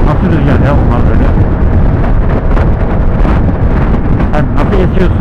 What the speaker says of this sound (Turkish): nasıl rüzgar ya bunlar böyle.